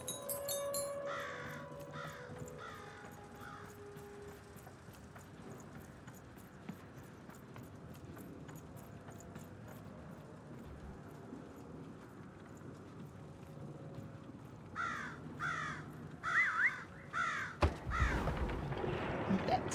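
Crows in the video game Lost in Random, cawing in repeated harsh bursts at the start and again near the end, moderately close over quiet ambient background, with clopping steps and a thud toward the finish.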